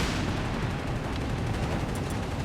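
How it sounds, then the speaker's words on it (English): Mortar and artillery fire in the World War II strategy game Company of Heroes 3, a dense, rumbling barrage of booming shots and blasts that runs continuously at moderate level. "There are definitely mortars over there."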